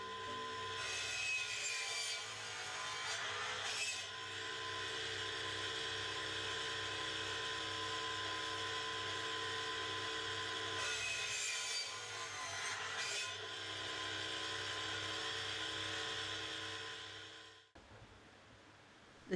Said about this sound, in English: saws the rod into the required length